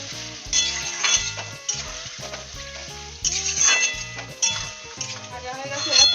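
Paneer frying in oil crackles and sizzles in a pan with occasional stirring clinks, close and lively, beneath a layer of steady background music.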